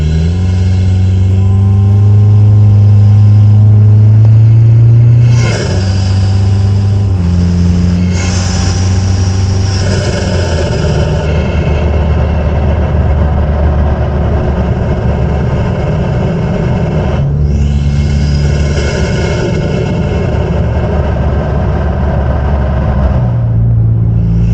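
A car engine fitted with a Banks intake revs loudly and steadily from under the hood, rising and falling in pitch with throttle, a turbo whine audible on top of the deep rumble.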